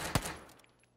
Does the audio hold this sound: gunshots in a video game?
yes